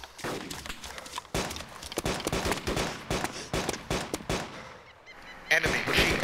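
Video game battle with dense, continuous gunfire and rapid automatic bursts, loud and close, mixed with game voices and shouting.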